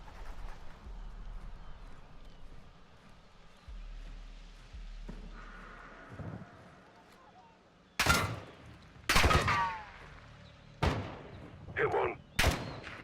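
Bursts of gunfire in a Call of Duty campaign on the hardest difficulty, several loud sharp volleys arriving in quick succession after a quieter stretch of low rumbling ambience, with voices speaking in between.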